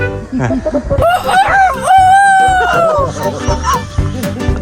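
A chicken gives one long, loud, rising squawk near the start, with a few shorter clucks after it amid a busy, noisy background.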